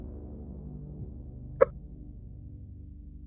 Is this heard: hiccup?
yes